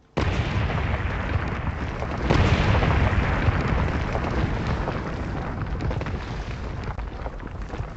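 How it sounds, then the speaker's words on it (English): A massive explosion and fire aboard the Indian Navy submarine INS Sindurakshak, thought to come from a weapon detonating in the forward torpedo area, is a loud, sustained broadband roar that swells partway through and rumbles on without any talking. "there's been a massive explosion and fire on board Indian Navy submarine INS Sindurakshak"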